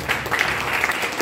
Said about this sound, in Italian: Applauso a Raffaele e ascoltate